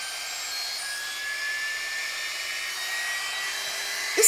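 A hair styling tool, an alternative to a Dyson, blows with a steady, close airy whir that holds level throughout, ending in a brief louder burst; no one speaks.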